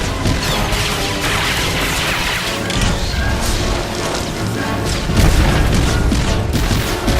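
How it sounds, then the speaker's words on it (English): Heavy, continuous explosions in Star Wars: The Old Republic as a missile barrage pounds a turret, a dense, loud roar of booms and crashes with a stronger blast near the end. "And with one last barrage of missiles, that's down too."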